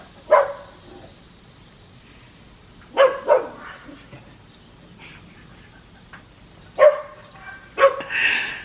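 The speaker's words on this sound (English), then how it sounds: "there's like craziness going on down the street. Dogs barking, all kinds of stuff." Several dog barks ring out in separated bursts, a single bark then pairs, fairly distant with a quiet background between them.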